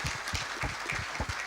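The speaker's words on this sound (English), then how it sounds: "let's give them a round of applause" Short burst of audience applause at a statistics conference session, scattered hand claps from a modest crowd, faint and somewhat distant, lasting only a moment.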